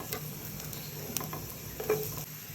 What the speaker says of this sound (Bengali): তেল গরম হয়ে এলে আমি এতে পেঁয়াজ কুচি দিয়ে দিব।